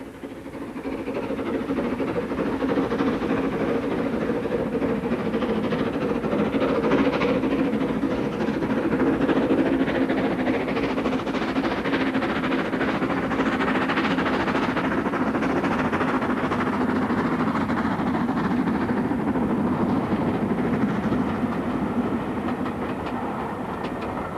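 LMS 7F steam locomotive 53808, owned by the Somerset and Dorset Railway Trust and running disguised as 53807, rolls past with a continuous heavy rumble and rail clatter that holds loud and even throughout.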